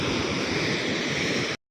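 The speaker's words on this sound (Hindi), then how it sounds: "यहाँ इतना पानी गिर रहा है और इन लोगों पे कितना पानी गिर रहा होगा भाई इस वाटरफॉल का" The Keri waterfall in Harshil Valley, heavy rushing water pouring down in a dense, steady roar with wind, close and loud, cutting off abruptly near the end.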